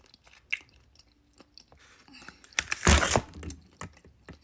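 Chewing a sugar-free gummy close up, soft moist clicks and small bites building to a louder crunchy stretch near the end.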